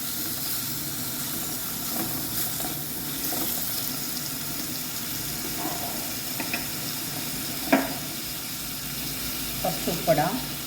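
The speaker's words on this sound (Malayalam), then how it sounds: "കുറച്ച് കറിവേപ്പില. നന്നായി ഒന്ന് വഴറ്റി കൊടുക്കാം." Curry leaves sauté in hot oil in a pan for a sole (manthal) fish curry, giving a steady, close sizzle and hiss with a few light clinks of stirring.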